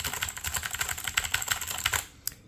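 Rapid, fairly loud keystrokes clatter on a MageGee MKBox 60% mechanical keyboard, an even run of crisp clicks with no talking, ending in one last isolated tap.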